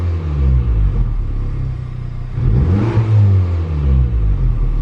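2023 Honda Civic Type R exhaust in comfort mode with the valve closed, heard from inside the car: a smooth, low engine drone that rises into a rev and settles again, with no talking.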